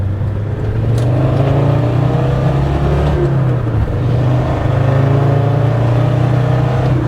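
A tuned Land Rover Defender Td5 90 with a Falcon hybrid turbo pulls hard in second gear on a wet road, its loud, close engine drone rising steadily with a brief dip midway, with no talking.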